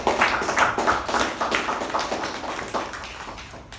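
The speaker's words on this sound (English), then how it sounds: "A round of applause to the speaker and the evaluator." A small group at a Toastmasters meeting claps for a speaker and evaluator, a steady patter of clapping that fades slightly toward the end, moderately close with no talking over it.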